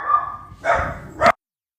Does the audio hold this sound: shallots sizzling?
no